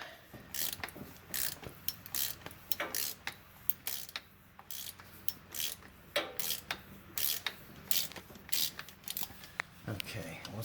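A ratchet loosens the oil drain plug on a 2014–2018 Toyota Tundra 4.6L, clicking in short, quick bursts close by with brief pauses between strokes, under occasional low speech.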